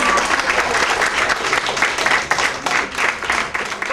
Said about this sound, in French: Un applaudissement encore.